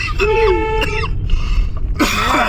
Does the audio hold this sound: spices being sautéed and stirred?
no